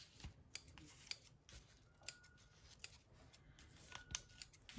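Scissors snip away loose threads from the back of a handmade A4 cluster for a journal page, a handful of sharp separate cuts spaced irregularly, close and quiet with no voices.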